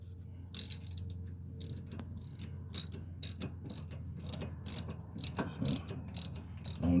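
A socket ratchet tightens a bolt on the rear brake of a 2016 Nissan Pathfinder, quick bursts of sharp clicking strokes repeating in an uneven rhythm, close and clear.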